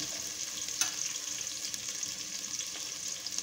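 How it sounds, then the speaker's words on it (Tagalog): Onion and garlic sautéing in a pan for puchero, a steady soft sizzle and crackle held close, with a few brief louder pops over the continuous frying hiss. "Naggisa muna tayo guys ng sibuyas at bawang"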